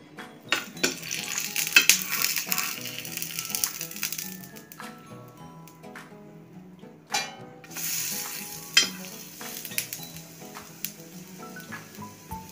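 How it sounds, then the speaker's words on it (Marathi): Triangular pieces of flatbread shallow frying in a pan, loud sizzling with frequent scraping and clattering of a spatula against the metal pan, close and busy throughout. "दोन्ही बाजूने शॅलो फ्राय करून घ्यायचं।"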